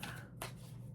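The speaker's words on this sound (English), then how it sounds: "I gotta keep shuffling sometimes." Tarot cards shuffled by hand, a brief soft riffle and flutter of cards standing out close up over a low background hum.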